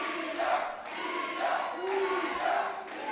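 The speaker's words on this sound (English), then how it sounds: "the Relentless Wrestling crowd trying to send as much energy as they possibly can to Keita" A wrestling crowd at a Relentless Wrestling match cheers and shouts in repeated swelling waves, moderately loud, with rhythmic rises roughly every second.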